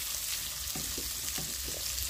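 Chopped chili and tomato frying in a pan make a faint, even sizzle, with a few soft muffled bumps of a stirring utensil in a brief moment.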